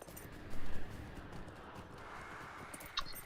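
Horse hooves clip-clop quietly in the Lord of the Rings Online video game near a shallow river, a soft steady trotting rhythm with a louder burst of steps at the start.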